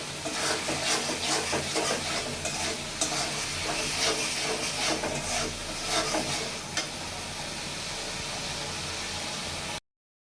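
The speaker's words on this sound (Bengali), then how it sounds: "এখন এটা আমি ভালো মতো কষিয়ে নিব যেন কাঁচা যে একটা মশলার একটা ঘন্ধ করে সেটা যেন চলে যায়" Spice paste for a taro and small hilsa curry fries in a pan with a steady, close sizzle and repeated stirring scrapes throughout, with no talking.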